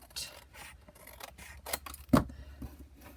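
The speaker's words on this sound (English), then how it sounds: "I'm just going to cut it with my scissors" Scissors cut through paper in a craft project, close and quiet, a series of short snipping and rasping slices ending in one sharper, louder cut.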